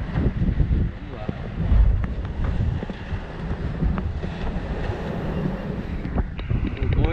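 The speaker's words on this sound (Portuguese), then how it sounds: "Tá batendo os ondão ali na frente" Waves slap against a sailboat at sea at night, a continuous churning wash with irregular thumps, heavily buffeted by wind noise on the microphone.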